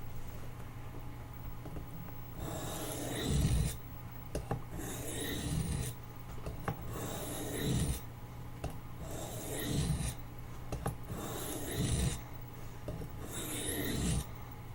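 A Marbles D2 Trapper knife being sharpened, with a steady rasping scrape of the blade over a stone in long, even strokes about every two seconds, plus a faint constant hum underneath.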